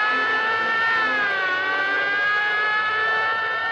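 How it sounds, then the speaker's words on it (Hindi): A police siren wails in a steady, loud, sustained tone, with a slight dip in pitch partway through, as it approaches. "कि पुलिस के सायरन, ये चोर चोर की आवाज, ये सब क्या है?"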